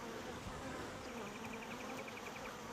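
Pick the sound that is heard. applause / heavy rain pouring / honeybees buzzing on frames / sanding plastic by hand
honeybees buzzing on frames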